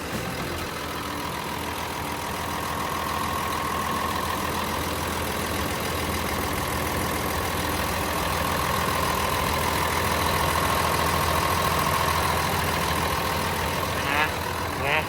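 A Komatsu WA470-8 wheel loader's large diesel engine idles with a steady, close rumble and drone as someone speaks over it.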